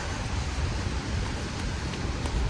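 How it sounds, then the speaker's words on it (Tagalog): Heavy storm rain in Dubai pours in a dense, steady wash of noise with no distinct drops, loud and unbroken for the whole stretch. "Lakas na yung ulan."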